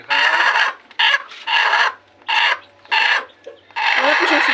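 Pet backyard chickens cluck and squawk in a series of loud, close bursts with short gaps between them, alone with no talking over them.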